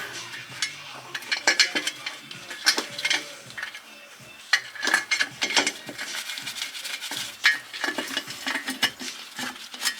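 Bolts being threaded by hand into a rear differential cover over a gasket, a close run of quick metallic ratcheting clicks and small clanks in bursts, with no talking.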